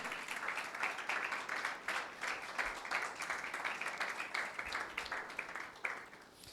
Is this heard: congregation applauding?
yes